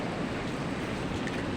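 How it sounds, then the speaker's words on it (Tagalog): Strong typhoon wind roars in a dense, continuous rush, loud and close, with no voices or other distinct sounds breaking through. "Pusog paghihapong hangin oh."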